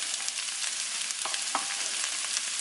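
A vegetable mixture sizzles steadily in hot olive oil in a pot, a bright continuous hiss with a few faint pops and stirring sounds, no talking.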